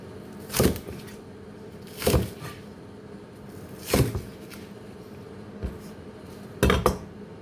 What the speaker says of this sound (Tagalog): Slice natin itong luya. 10 pieces.